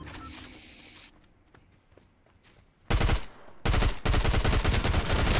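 Fortnite gunfire: a few faint shots early, then loud rapid bursts of automatic fire near the end, close and sharp, with little talk.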